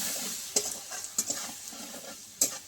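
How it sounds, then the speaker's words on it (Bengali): Spices sizzle in hot oil in a pan for a fish curry with eggplant, under a steady frying hiss broken by three sharp scrapes of a stirring utensil. "এক মিনিট মতো একটু কষিয়ে নেবো তেলের সঙ্গে"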